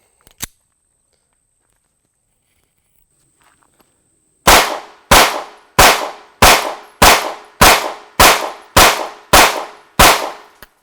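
A Sig P365 pistol fires its last rounds of a 1,000-round challenge: ten sharp, loud shots at an even pace of roughly two-thirds of a second, each ringing briefly, after a near-silent pause.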